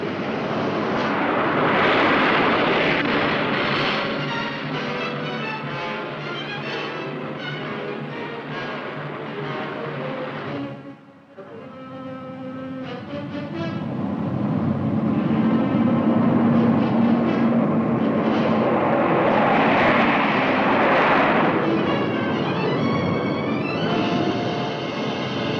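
The engines of a B-52 Stratofortress bomber in flight make a continuous, heavy roaring drone that dips briefly midway and then swells again, loud and unbroken for about twenty-five seconds.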